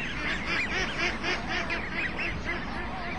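Waterfowl honking on a crowded lake, a rapid run of repeated goose-like honks over a steady, dense background of many birds.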